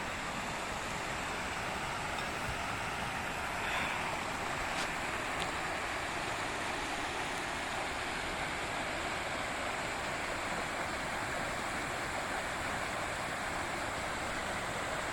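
Waterfall and stream at Sly Park, California, pouring steadily in a dense, continuous broadband rush that stays even and unbroken throughout, with no voices.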